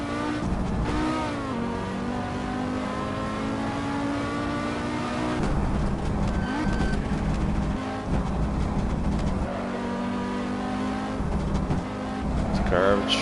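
Race car engine from the PS4 Assetto Corsa driving game, played on a DS4 controller, droning and revving with pitch climbing and dropping through gear shifts, steady and fairly loud, with someone talking over it.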